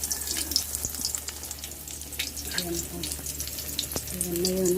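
Steady sizzling and crackling of bananas frying in hot oil, with scattered pops and a faint kitchen hum underneath.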